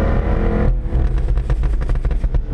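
Jaguar F-Type cruising slowly in first gear, a loud low engine drone that drops off and gives way to a rapid run of crackling exhaust pops.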